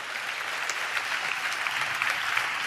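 Congregation clapping during a Telugu Christian sermon, a steady dense wash of many hands that holds throughout without any voice.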